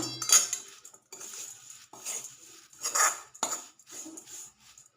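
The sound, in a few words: mixing fenugreek flour into a dish with a spoon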